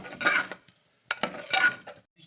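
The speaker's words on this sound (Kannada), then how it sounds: "ಸ್ವಲ್ಪ ಒಂದೆರಡು ನಿಮಿಷ ಫ್ರೈ ಮಾಡ್ಕೊಳ್ಳೋಣ" Two bursts of scraping and sizzling as mutton liver is stirred and fried in a hot pan, separated by a short pause, close and fairly quiet.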